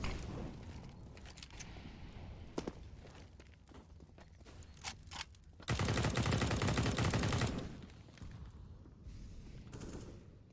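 Gunfire from a Counter-Strike esports match: sharp scattered shots and short bursts, then a dense sustained volley mid-clip that fades into lighter firing and footsteps.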